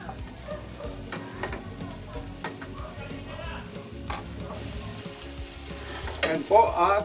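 A pot of bulanglang vegetable soup heats toward a boil, giving a soft bubbling sizzle with scattered ticks and clinks, louder near the end.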